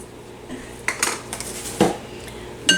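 A spoon scrapes and clinks against a crock pot while dried minced onions are stirred in, giving several sharp metallic taps and scrapes spaced irregularly, close and fairly loud.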